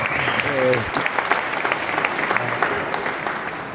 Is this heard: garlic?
no